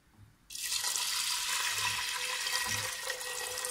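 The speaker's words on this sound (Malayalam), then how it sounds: "ഇനി ഇതിലേക്ക് ഇത് നികന്ന് ഇതിൻ്റെ മുകളിൽ നിൽക്കുന്ന അത്രയും വെള്ളം ഒന്ന് ഒഴിച്ചു കൊടുക്കണം" Water suddenly starts pouring in a steady, rushing stream into a metal pressure cooker close by, continuing without pause.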